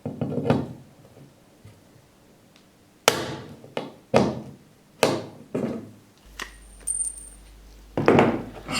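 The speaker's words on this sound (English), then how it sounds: "Then with a hammer, round the edges of the pot rivets off" A series of sharp hammer strikes rounding off metal pot rivets, a few seconds apart, ringing briefly, with quieter handling noise in between.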